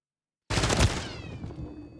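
A single burst of gunfire in Call of Duty Modern Warfare 3 erupts after a moment of silence, a loud, sharp blast that rings out and decays with a metallic tail.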